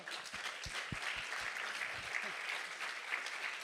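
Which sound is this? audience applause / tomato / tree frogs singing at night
audience applause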